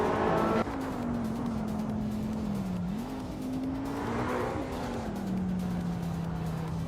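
A 1988 De Tomaso Pantera GT5 race car in a racing video game drives on with a steady engine drone whose pitch rises and falls through gear changes, loud and continuous, with a brief sharp burst at the start.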